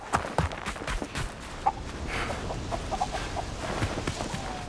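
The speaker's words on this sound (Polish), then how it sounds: "Kury, czy co to jest?" Scattered clucking from several chickens in the video game Indiana Jones and the Great Circle, over a steady background, with soft taps and shuffling, fairly quiet and close.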